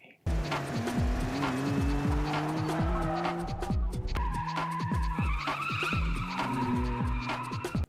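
In the Initial D film, cars race down a mountain road at night: loud engines rev and repeated sharp tire squeals and skids come in quick succession, close and continuous.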